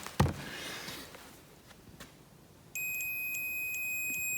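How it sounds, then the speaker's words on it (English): A sharp click, then a multimeter's steady, high-pitched electronic continuity beep switches on as the probes touch two connected contacts, holding without a break to the end. "hear that beep? That means that we're touching 2 contacts"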